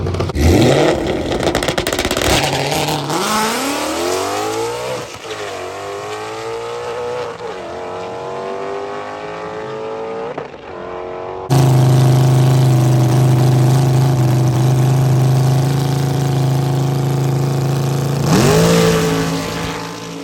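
A drag race car at a Shadyside gamblers race and test-n-tune night runs loud. It revs in rising sweeps, drops back, then settles into a sustained full-throttle roar before climbing again near the end, with no talk over it.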